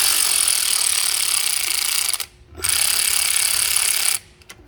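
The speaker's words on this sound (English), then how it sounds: "Come through with the electric ratchet." An electric ratchet removes an alternator bolt on a Volkswagen Passat, whirring loudly and close in two sustained bursts, with a short pause between them and a quiet stop at the end.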